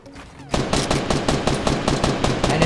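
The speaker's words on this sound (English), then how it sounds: "And if he's shooting at you like that" Rapid gunfire from the video game Fortnite, a loud burst of evenly spaced shots starting abruptly and continuing to the end, with a voice faintly beneath.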